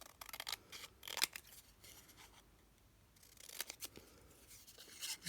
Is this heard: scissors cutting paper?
yes